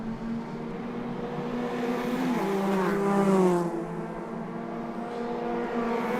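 ICCR racing cars pass on track, their engines rising in pitch and swelling to a peak at close range, then fading as they pull away, with a second car's drone following behind.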